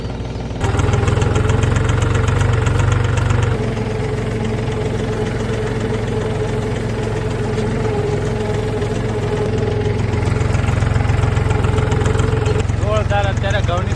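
A farm tractor engine runs close by in a steady, loud, knocking diesel throb out in a wheat field, its pitch shifting slightly partway through. Voices are heard over it.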